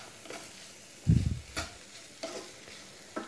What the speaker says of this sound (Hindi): इन मसालों को हम वेजिटेबल्स के साथ फिर से अच्छे से मिक्स कर लेते हैं